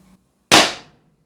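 A single loud, sharp shot from an Umarex HDR 50 T4E .50 caliber home defence revolver striking a can, close by with a quick decaying tail after a brief low murmur.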